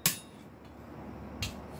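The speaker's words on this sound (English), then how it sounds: "A heavy hammer makes it easier" A heavy hammer strikes metal on an anvil twice, both blows sharp and close, about a second and a half apart against quiet background noise.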